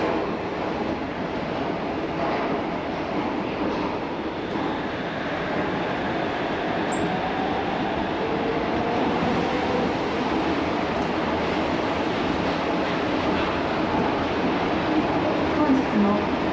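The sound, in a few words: Shonan Monorail suspended monorail train running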